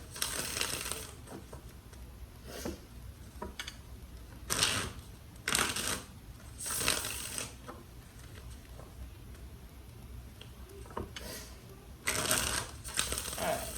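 Tarot cards are shuffled in repeated bursts of crisp riffling and flapping, close and fairly loud, with quieter handling and rustling between the bursts and no talk.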